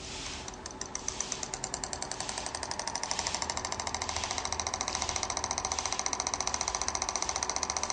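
A Keppe motor with its propeller removed spins at high speed, giving a fast, even mechanical chatter and whine that grows slightly louder and steadier, heard alone at close range.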